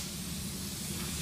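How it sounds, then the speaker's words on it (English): Activator sprayed onto carbon fiber hydrographic transfer film floating in water, prepared for a Dodge Dakota bumper; a steady, close aerosol hiss runs throughout without pause. "Spraying a little activator on it."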